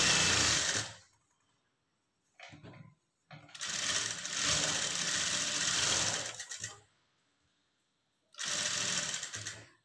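Sewing machine stitching a garment sleeve with a half-inch seam, running in loud sustained bursts with short stops between them, plus a brief stutter of stitching in the middle.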